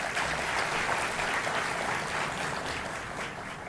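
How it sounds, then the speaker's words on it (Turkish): Audience applause at a university symposium in Van, a steady dense wash of clapping from a sizable crowd that holds loud throughout and eases slightly at the end. "onlara gerçekten güçlü bir alkış istiyorum sizlerden"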